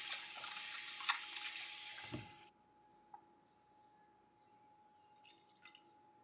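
Raw chicken is rinsed under running water, a steady broadband tap-and-sink rush for about two seconds that cuts off abruptly, followed by faint, sparse drips and small splashes in a quiet kitchen.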